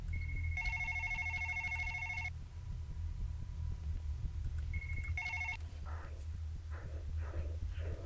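A telephone rings in the video game One Late Night, two bursts of electronic ringing separated by a pause against a steady low hum, followed by a few faint tones.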